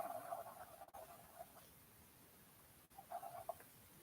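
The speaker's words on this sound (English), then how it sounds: "I have little doves outside my door now." Doves coo outside a door in short, soft, repeated bursts, clustered at the start and again near the end, with a quiet pause between.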